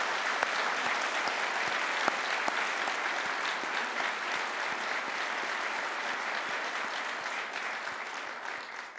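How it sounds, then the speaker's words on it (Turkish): An audience at a ceremony unveiling Turkey's national car joint venture group applauds steadily for several seconds, a dense, even wash of many hands clapping with no talking. "Ahmet Bey, sizi de şöyle bir alkışlayalım."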